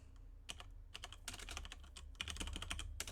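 Quick, uneven keystrokes clatter on a computer keyboard, close and clear, in bursts with short pauses between.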